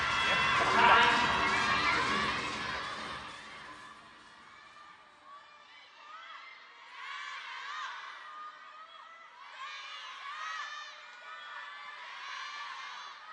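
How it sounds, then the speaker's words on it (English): Crowd of table tennis fans at a WTT Champions Macao 2025 match: a loud burst of cheering and shouting at the start fades into a steady arena murmur, with commentators talking over it. "it's tough to hear in here with all the noise from the crowd"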